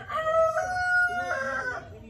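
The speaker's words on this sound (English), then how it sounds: "thanks, Rooster" Homestead rooster crowing once nearby, a loud, drawn-out cock-a-doodle-doo rising and then trailing off, heard alone over quiet farmyard background.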